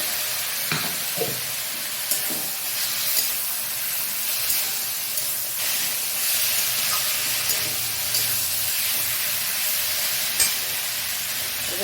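Spices and green chilli paste sizzle and fry in a pan for a bitter gourd and puti fish dish, with a steady loud hiss and scattered scraping stirs throughout, no voices.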